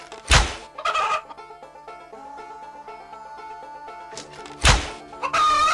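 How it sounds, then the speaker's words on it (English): Video game farm scene with chickens being struck, heavy thunks hitting at the start and again near the end, with clucking bird calls and a light musical backdrop in between. "Chickens! We're killing chickens!"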